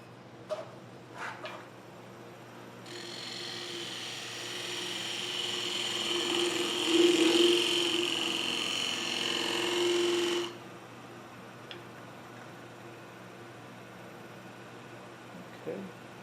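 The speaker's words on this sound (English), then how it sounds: "This is about the only time I will use a spindle gouge on a bowl or the foot of a bowl." A spindle gouge cutting the foot of a 10-inch wooden bowl on a lathe gives a steady whirring, scraping tone lasting several seconds, with quieter lathe hum and a few knocks before and after.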